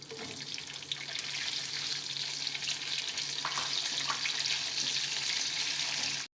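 Cauliflower for aloo gobi frying in a pan gives a steady, close hiss of sizzling oil, bright and continuous with occasional small pops and stirring clatters, unbroken until a sudden cut at the end.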